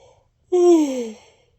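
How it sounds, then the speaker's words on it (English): A person gives a single drawn-out yawn, starting suddenly with a voiced rise and then sliding down and trailing off over about a second, close and clear against near silence. "And I'm gonna yawn."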